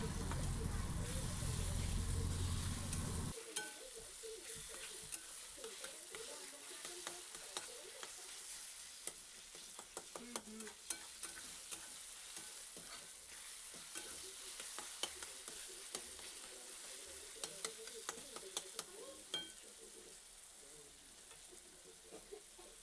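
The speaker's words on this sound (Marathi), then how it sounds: "मस्त बारीक चिरून घ्यायचे आणि मस्त असे या कांद्यावरती भाजून घ्यायचे" Finely chopped small red tomatoes fry over onions in a pan and are stirred, with a soft steady sizzle and scraping utensil clicks; a louder noisy burst opens before it settles into quiet frying.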